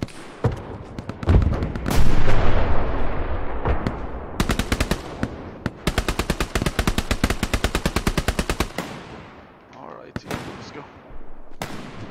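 Dense gunfire in the World War II shooter Hell Let Loose, with long rapid machine-gun bursts and scattered heavy shots building into a sustained, loud exchange, then thinning to a few isolated reports near the end.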